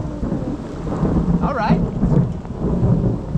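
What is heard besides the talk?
thunder during a thunderstorm on a remote island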